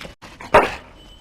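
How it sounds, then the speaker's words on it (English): A single sharp dog bark rings out in the Dragon Age: Origins fantasy role-playing game, a short loud burst that stands alone over quiet ambience. "Bloody dog."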